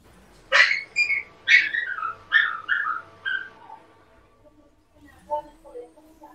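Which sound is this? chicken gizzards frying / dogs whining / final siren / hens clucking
dogs whining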